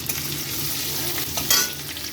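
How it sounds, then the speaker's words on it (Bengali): Chopped ginger and green chilies fry in ghee with a close, steady sizzle, broken by brief scraping as a spoon stirs them in the pan. "এখানে আদা আর লঙ্কাটা ভাজা হয়ে গেছে"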